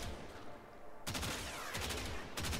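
A weapon firing semi-auto in Warframe, with a few sharp, close gunshots breaking into a dense, noisy background of game sound.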